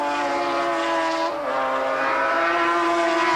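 1995 BPR Global GT race cars scream down the hill through the Craner Curves at Donington, a loud high-revving engine note holding steady, then dipping and rising again as the cars pass.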